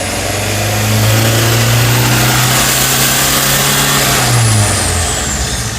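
An old pickup engine with glow plug trouble revs up and holds around 1500–2000 rpm, a loud, steady drone close by that eases back down near the end, with no voices over it.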